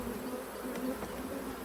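Dense honeybee buzzing from a jam-packed, crowded hive, a steady close-up hum that holds at an even level throughout with no voices.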